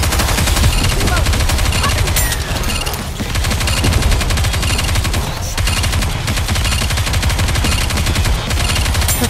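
Dense, continuous gunfire from the Goddess of Victory: Nikke video game, loud overlapping automatic bursts with a brief lull near three seconds, music and effects layered beneath.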